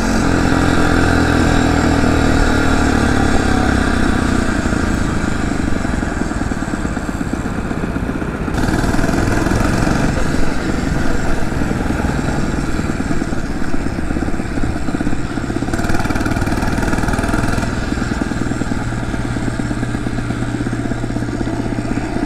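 A Phatmoto motorized bicycle engine running during a ride, a loud, close, buzzy small-engine drone that holds steady throughout, no talk.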